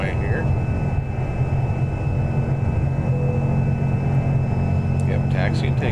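A simulated aircraft taxis onto the runway in the X-Plane flight simulator, with a steady low engine drone and a constant tone running throughout, and a few short higher chirps near the end.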